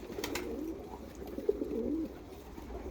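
A pair of Rakkas pigeons cooing close by, soft rolling low coos repeating through the moment with faint background rustle.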